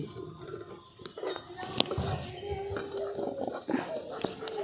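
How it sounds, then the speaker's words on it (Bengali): A metal kadai being set down on a stove while making sandesh, heard as a few clanking metal knocks and scrapes among kitchen clatter, with moderate, close sound. "এই যে কড়াটা আমি রেডি করে রেখেছিলাম এটাকে আর বসিয়ে দিচ্ছি"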